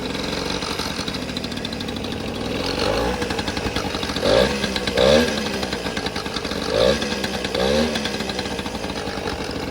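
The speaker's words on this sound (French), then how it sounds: "Le ralenti je l'ai réglé, il est peut-être un peu trop haut, je trouve que le moteur il tremble" A Peugeot 103 SPX moped engine idles with a fast, rough, shaking putter, set a little high, with occasional rises and small bursts of revs. Close and moderately loud, with no talk over it.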